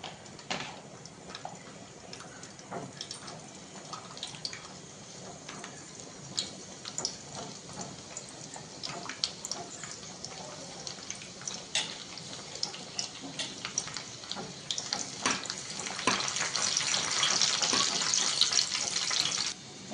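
Garlic dropped into well-heated cooking oil for chole, giving a steady, bright sizzle and hiss that swells louder toward the end, with no talking over it.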